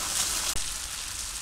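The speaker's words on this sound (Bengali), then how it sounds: "কড়া কড়া করে ভাজছি।" Fish coated with chili powder, salt and spices fries crisply in a pan, giving off a steady sizzling hiss broken by one sharp click partway through.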